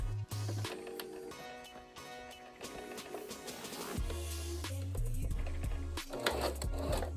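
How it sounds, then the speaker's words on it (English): Sewing machine stitching a seam on a cloth face mask, bursts of rapid mechanical ticking start and stop in short runs, close and fairly quiet, with handling rubs between them. "we're going to sew along that as well"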